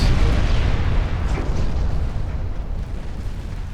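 A torpedo strikes a warship in the naval battle game Ultimate Admiral Dreadnoughts, giving a heavy, booming explosion with deep rumble that slowly fades over several seconds.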